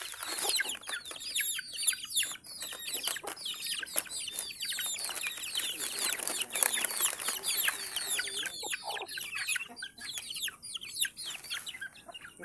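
A flock of chickens clucking and squawking continuously up close, busy overlapping calls with occasional wing flapping, while a person talks intermittently among them.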